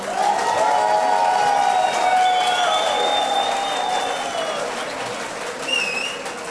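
Warm, sustained applause from the audience at a Pontic Greek association dance evening in Augsburg greets young dancers, with a few whistles and cheers rising through the dense clapping.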